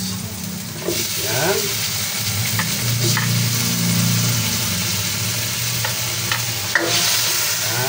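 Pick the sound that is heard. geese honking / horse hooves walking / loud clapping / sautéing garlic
sautéing garlic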